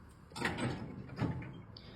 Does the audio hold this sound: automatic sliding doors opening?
yes